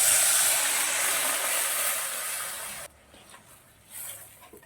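Boiled dal poured into hot spiced oil for a festive veg dal: a loud sizzling hiss that eases slightly, then cuts off abruptly, leaving quieter stirring noise.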